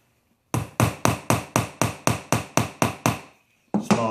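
Eleven sharp, evenly spaced hammer taps on a nail in quarter round trim ring out in a steady rhythm, close and loud, then a brief pause before one more knock.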